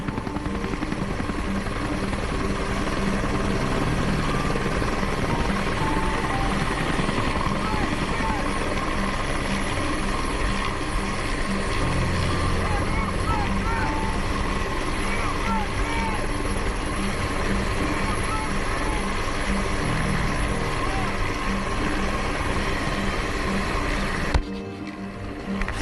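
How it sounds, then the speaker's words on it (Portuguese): Rescue helicopters circle over the Brumadinho dam disaster site, a steady rotor drone that fills the whole stretch without letting up, with people talking faintly underneath. "Vocês estão ouvindo o barulho dos helicópteros aqui, resgatando alguns pedaços de corpos."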